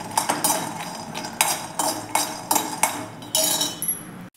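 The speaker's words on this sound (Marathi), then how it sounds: "त्यासाठी इथे मी शेंगादाणे घेतलेले आहेत, ते टाकून घेते। ते आपण हलकेसे भाजून घेऊया।" Peanuts being dry-roasted in a kadai, stirred with a metal spoon that scrapes and clinks against the pan in an irregular series of sharp strokes, fairly quiet with light rattling between them.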